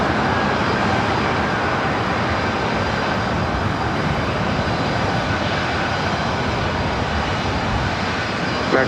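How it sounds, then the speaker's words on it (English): Loud, steady jet engine roar from a Delta Boeing 737-800 airliner at LAX, a broad, continuous rumble that holds at full strength for the whole stretch with no voices over it. "Delta Airlines flight 978 heading to Vegas, 737-800 will be followed by that Delta 757-300 heading to Minneapolis"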